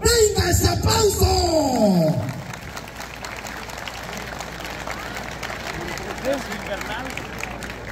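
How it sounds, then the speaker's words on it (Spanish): A crowd claps and cheers loudly for about two seconds under an announcer's voice, then the applause fades into a steady murmur of crowd noise. "¡Venga ese aplauso!"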